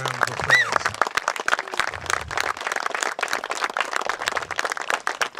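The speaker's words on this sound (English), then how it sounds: "So give that family and all yourselves an incredible round of applause." Audience applause at an outdoor groundbreaking ceremony for a veterans facility, a steady wash of many hands clapping at moderate loudness throughout, with a brief low rumble near the start.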